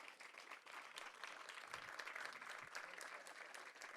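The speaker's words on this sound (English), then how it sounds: "that deserves a big round of applause" Sustained applause from a crowd at a county groundbreaking ceremony for a new regional safety complex, steady dense clapping throughout with a few cheers mixed in.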